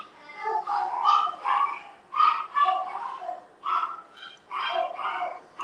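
Several dogs bark and yip repeatedly at mid distance, in uneven bursts with short pauses between.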